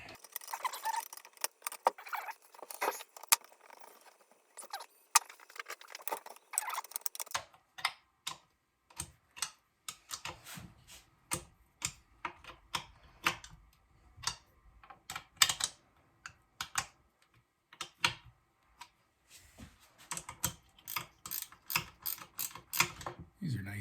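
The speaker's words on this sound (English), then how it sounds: "These are nice, these ratchet box end wrenches." A ratchet box-end wrench clicks in sharp, uneven bursts of small metallic ticks while a fuel tank is refitted on an IEL Pioneer HM chainsaw, with brief pauses between strokes.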